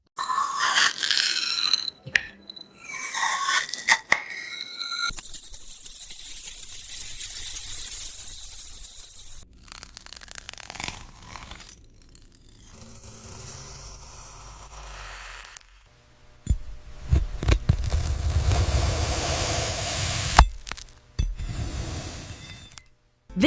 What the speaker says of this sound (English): Slicing a glowing crystal apple.